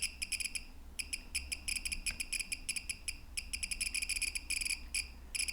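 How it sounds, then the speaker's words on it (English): Rapid bursts of sharp electronic clicks from a Geiger counter held near a radioactive uranium-bearing rock crackle in dense clusters, coming in irregular rapid-fire groups with brief gaps between them. "As you can hear, this is much more radioactive, with many more clicks"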